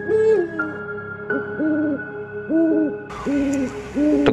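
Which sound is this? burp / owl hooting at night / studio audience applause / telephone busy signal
owl hooting at night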